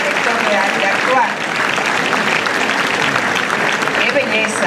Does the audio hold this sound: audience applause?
yes